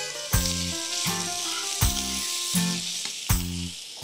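Sliced leek is fried in a pan with a fish and potato filling, giving a steady close sizzle broken by several rhythmic scraping stirs, with no talking.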